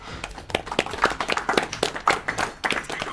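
Scattered applause at a live gaming marathon event, a handful of people clapping unevenly and fairly close for a few seconds.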